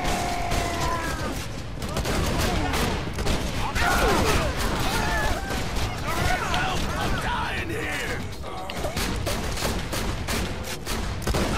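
A turret in Borderlands 2 keeps firing in a dense, continuous rattle of shots mixed with mechanical clatter and busy game effects, with voices talking over it throughout.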